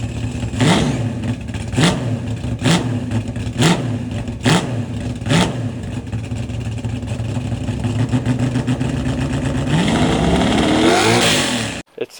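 A 1964 Chevrolet C10 pickup's engine revs sharply several times in a steady rhythm, raspy exhaust blipping up and down, then rumbles into a longer, rising rev before cutting off.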